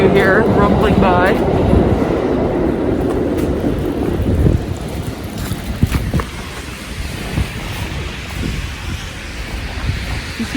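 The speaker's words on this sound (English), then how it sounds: "the subway is right down here. That's the trains you hear rumbling by." Subway trains rumbling underground beneath a snowy New York City street, a deep continuous roar and clatter rising through the pavement, with a voice speaking over it.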